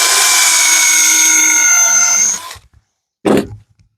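A power drill drives a screw into a short piece of wood, a loud steady whine for over two seconds that cuts off, then a brief second burst after a pause.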